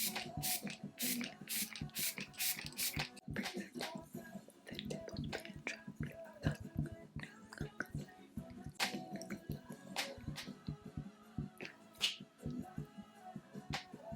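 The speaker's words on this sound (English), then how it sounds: "The best setting spray for locking in your makeup. I like to spray this after all the creams." A makeup setting spray bottle puffs out several quick, close mists over a face, with soft, scattered taps and rustles between bursts, all faint and near.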